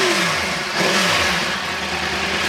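A 2009 Yamaha R1 crossplane motorcycle engine revs steadily and loudly, a continuous close mechanical roar with a slight rise in pitch partway through, and no voices.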